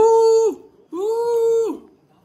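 A frightened pet dog whimpers at home amid birthday balloon decorations, two drawn-out, high nasal whines in close succession, loud and near with no other sound.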